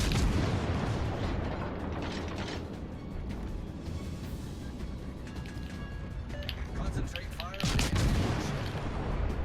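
Naval gunfire from a Tyrwhitt-class warship in World of Warships, heavy booming salvos rolling continuously at high level with mechanical clanks, a louder blast near the end, voice talking faintly underneath.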